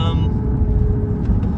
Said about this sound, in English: You can hear that nice VQ motor